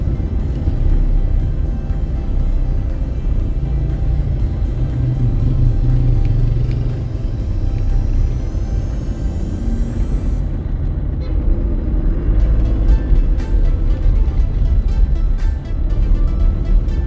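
Traffic streams along the Bataan Provincial Highway in Balanga, Bataan, a continuous loud rumble of cars and trucks passing close by, with a brief horn toot near the end and no talk over it.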